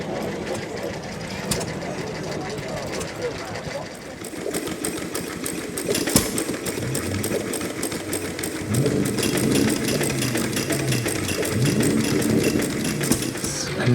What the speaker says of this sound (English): Got some vintage tractor displays here, and also some stationary steam engines as well.